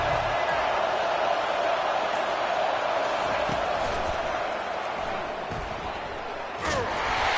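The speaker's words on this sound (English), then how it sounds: "Listen to this crowd just shaking the girders of this place" Roaring stadium crowd at a Clemson football game, a dense, loud, continuous wall of cheering and noise with occasional sharper shouts.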